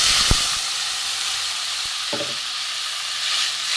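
Water poured into a hot pan of potato curry sets off a loud, steady steaming hiss that fills the whole moment, with a couple of faint utensil clinks near the start.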